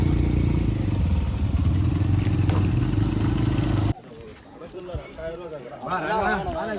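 A motorcycle rides along with a loud, steady engine roar, then cuts off abruptly as it stops, leaving quieter surroundings where people talk nearby.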